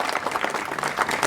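An audience claps at a Dr. Babasaheb Ambedkar Jayanti gathering, a short, dense patter of applause from many hands.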